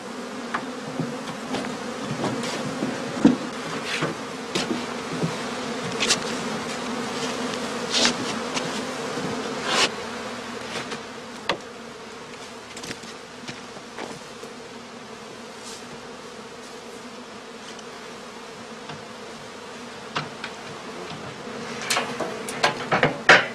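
Honey bees swarm around traditional straw skep hives on an outdoor stand in the heathlands of northern Germany, giving a continuous, moderately loud buzz that rises and falls slightly, with individual bees passing close by.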